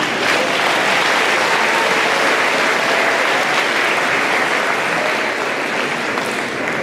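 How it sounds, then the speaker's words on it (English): Loud, sustained applause from a large audience at a 2025 high school graduation ceremony, honoring the speakers; steady, dense clapping fills the entire stretch with no talk over it. "Round of applause for all of our speakers tonight."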